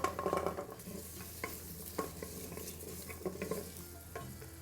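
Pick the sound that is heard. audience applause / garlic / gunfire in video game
garlic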